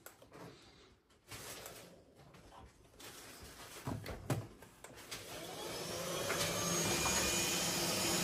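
A Miele Duoflex HX1 Cat & Dog vacuum cleaner runs close by, its steady whooshing suction growing louder and stronger toward the end as it is switched up to a higher setting.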